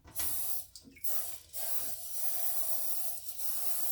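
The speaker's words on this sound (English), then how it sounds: "Now I'm going to spray my pan right quick." Bursts of cooking spray hiss onto a baking pan for a Coca-Cola cake in several short, close pulses, with a steady airy spray between them.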